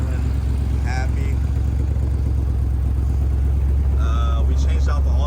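A Factory Five 35 Hot Rod Truck idles outside in hot sun after an alternator swap, a steady low engine rumble running throughout, with a person talking over it.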